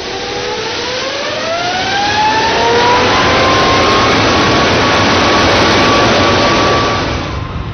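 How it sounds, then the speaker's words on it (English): A Rolls-Royce jet engine, rigged for a blade-off test, spools up to full power, a loud roaring whoosh with a rising whine that climbs and then holds steady, close and overwhelming, before tailing off. "the throttles are opened and the engine brought to its full,"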